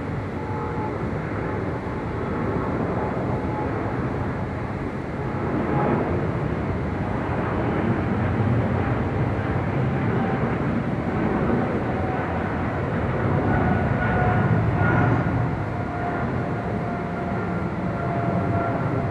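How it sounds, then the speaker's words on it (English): A Singapore Airlines Boeing 777-300ER takes off from runway 25 right at LAX, its engines a loud continuous low roar that swells gently, heard from a distance with no voices. "Now we got the Singapore Airlines 777-300ER heading to Tokyo Narita now,"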